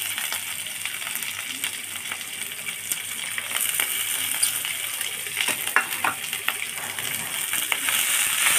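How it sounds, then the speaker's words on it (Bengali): Chopped onion frying with ginger-garlic paste and green chili for potato curry, a steady close sizzle with scattered stirring clicks and scrapes, growing slightly louder, with no talking. "দিয়ে ভালোভাবে ভেজে মশলাটা আমি কষিয়ে নেব"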